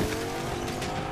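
A car in Fortnite drives with a steady, loud engine drone and a hint of tire noise. The sound is continuous and close, with no talking.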